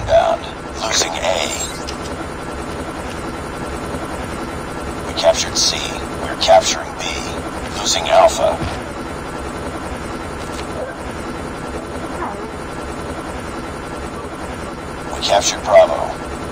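A stealth chopper helicopter in the video game Call of Duty Mobile makes a low steady rotor hum beneath repeated game announcer voice callouts and occasional bursts of battle noise.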